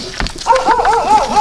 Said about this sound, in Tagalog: tinahol na kami ng aso